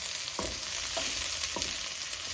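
Mushrooms browning in a hot pan hiss steadily, with three evenly spaced scrapes or stirs cutting through the sizzle. The sound is close and there are no voices.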